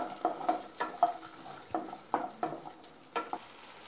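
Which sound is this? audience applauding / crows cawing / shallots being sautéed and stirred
shallots being sautéed and stirred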